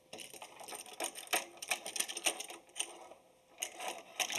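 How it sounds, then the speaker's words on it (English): A large set of vice grip clamps is worked onto a gun buttstock, giving a run of close, sharp metallic clicks and ratcheting clatter in uneven bursts with short pauses, and no talking. "This is a big set of vice grip clamps."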